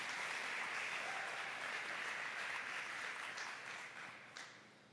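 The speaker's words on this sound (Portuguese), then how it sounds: "Pode aplaudir, uma casa consagrada." Congregation applauding inside a church during a consecration sermon, a steady wash of many clapping hands at moderate distance that holds for several seconds and then begins to thin toward the end.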